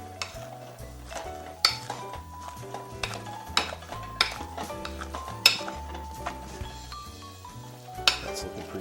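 Boiled potatoes being mashed in a pot with a little potato water, giving soft squishing strokes punctuated by sharp metallic clanks of the masher against the pot, with faint background music.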